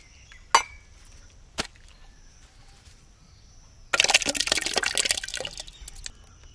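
Liquid is poured into a pot in a splashing, bright rush lasting about two seconds, preceded by a couple of sharp knocks in a quiet room.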